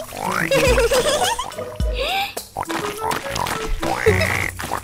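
Children's song in which a singing voice imitates a pig, repeating oink calls in rhythmic bursts over a bouncy musical backing, with sung lines between the oinks.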